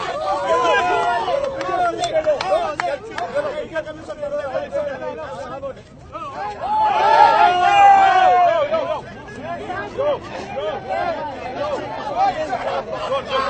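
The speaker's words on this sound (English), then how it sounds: "The best way to describe this crowd is a frenzied Narendra Modi crowd" A frenzied crowd of Narendra Modi supporters fills the air with dense, continuous chatter and shouting, swelling louder for a couple of seconds midway, with no single voice standing out.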